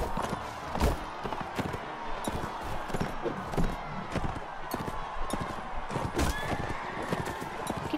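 Horses neigh and gallop in the Mount and Blade Warband video game, with repeated hoof clatter and whinnies over busy battle noise, steady and fairly loud.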